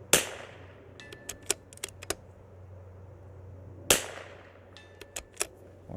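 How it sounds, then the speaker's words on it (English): Two sharp rifle shots crack out at a steel plate target, each followed a moment later by a cluster of faint metallic pings and echoes, set against a low steady outdoor hum. "we're just gonna shoot this steel plate here, just in the center of this gap."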